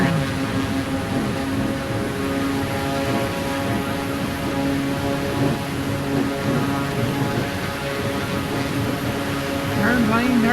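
Propeller airplane engine in Microsoft Flight Simulator 2024, a steady droning hum with layered harmonic tones and a slight rise near the end, continuous and fairly loud, with a voice talking over it.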